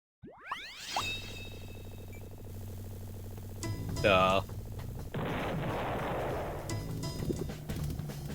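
A Roblox explosion sound effect plays during a kart game night, with a quick whoosh, a sharp burst and a lingering noisy rumble, over game music and tones.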